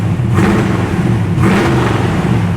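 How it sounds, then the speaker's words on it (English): A car engine with a Terminator X setup on a hot rod in a restoration shop gives two short throttle bumps to about 3,000 RPM, loud and close, each rev swelling and falling back to a steady idle rumble. "Just give it a little bump of the throttle."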